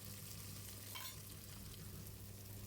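Onion cubes and garam masala powder frying in oil: a continuous, fairly quiet sizzle with a soft hiss and no pauses.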